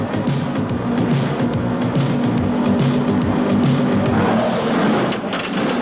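NASCAR stock cars with 358 cubic-inch, 600-plus horsepower engines roaring around a track, a loud continuous drone with a sustained engine tone and passing-car rumble, no talking.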